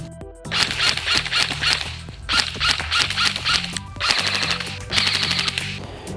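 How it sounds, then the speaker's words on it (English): A Black Ops M4 Viper MK5 airsoft gun fitted with a red dot sight fires in several loud, rapid bursts of clattering shots, separated by short pauses, over a steady tonal background. "So let's shoot Jackson."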